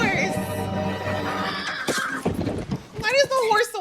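A horse whinnies in an episode of The Rings of Power amid battle noise, a rising-and-falling neigh near the end, heard under and between a person's excited talking.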